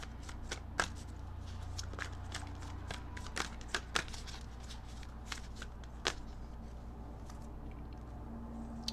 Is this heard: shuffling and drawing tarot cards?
yes